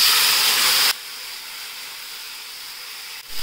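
Tomatoes go into hot oil already sizzling with mustard seeds, curry leaves and green chillies for a curd potato gravy, a loud hissing sizzle that drops sharply to a softer, steady sizzle and then briefly flares again.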